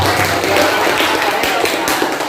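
Classroom applause for a pupil during a music lesson, a short dense patter of clapping from many students, fairly close and steady throughout.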